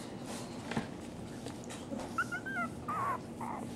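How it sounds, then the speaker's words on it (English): A Doxie-Poo dog whimpers and yips softly nearby, giving a few thin, high whines over quiet shuffling and background noise. "That's the daddy dog right there."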